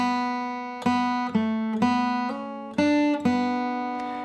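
A guitar picks the first measure of "Back Side of Albany", a few distinct notes over a held low note, clean and close, with brief pauses between plucks.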